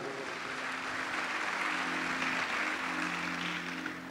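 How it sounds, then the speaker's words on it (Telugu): A church congregation applauds together, a dense, steady wash of clapping hands that holds evenly throughout at moderate loudness. "గట్టిగా చప్పట్లు కొడదాం"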